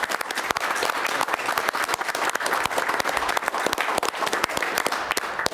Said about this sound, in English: I would like one more round of applause for those gentlemen